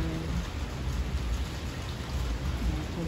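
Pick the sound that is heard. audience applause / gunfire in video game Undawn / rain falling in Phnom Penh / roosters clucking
rain falling in Phnom Penh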